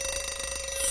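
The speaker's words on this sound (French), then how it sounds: "Ah, c'est mon alarme. C'est l'heure d'enlever le masque." An alarm rings to mark the time to remove a face mask, a steady electronic tone pulsing rapidly and evenly, close and alone for a brief moment.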